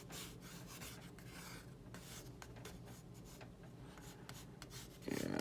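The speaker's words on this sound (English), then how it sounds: "it does look like it's actually scratching off some of the paint here" Scratching paint off Star Wars Retro Collection cardboard packaging makes a close, quiet, continuous rasping scrape, followed by a louder rustle at the end.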